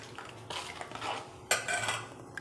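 A spoon stirs a small lemon juice and salt mixture in a bowl, producing quick clinks and scraping taps of metal against the dish, with a sharper knock partway through.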